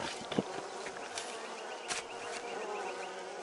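Bees buzz steadily around beehives kept for honey and wax in the video game Pentiment, a dense insect drone heard alone with a few brief louder swells.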